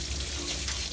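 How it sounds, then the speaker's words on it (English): Steady running water from a tap or sprayer rinses a dog's face during home grooming. It is a continuous hiss at even volume that lasts under a second, with no voices. "That's how you rinse their faces."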